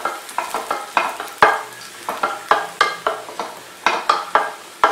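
Cashews and raisins frying in a pan while being stirred, with crisp sizzling and repeated sharp scrapes and taps of a utensil in an uneven rhythm, close up and without talk.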